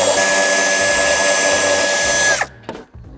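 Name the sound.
power tool removing screws from BMW X6 tail light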